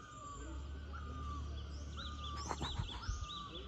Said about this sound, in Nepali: चराको आवाज ऊ त्यहाँ माथि भर्खरै दुईटा चरा गएको छ